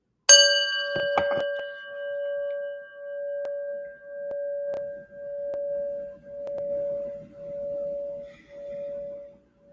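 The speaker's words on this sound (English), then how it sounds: "listen to the bell until it stops ringing" A meditation bell is struck several times, then one clear tone rings on, swelling and fading in slow pulses as it gradually decays in a quiet room.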